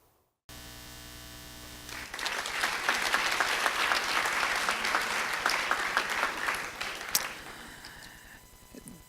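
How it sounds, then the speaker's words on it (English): Audience applause at an awards ceremony for the Franklin H. Williams and John F. Kennedy Service Awards, a steady mass of clapping that swells after a brief hum and fades toward the end, with a constant electrical hum beneath. "Thank you for that round of applause"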